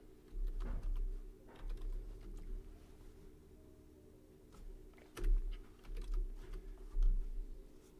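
Someone types on a computer keyboard in scattered soft clicks and short bursts, with a few sharper key strikes standing out over a low, steady background hum.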